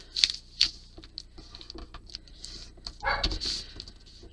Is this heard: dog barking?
yes